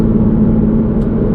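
A Porsche 911 engine and exhaust idle after an exhaust mod is switched on, giving a loud, steady low rumble with a constant hum and no talking.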